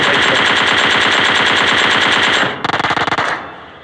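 Rapid, loud automatic gunfire in the video game PUBG rattles continuously from a house, then a shorter burst of shots follows after a brief break before fading out.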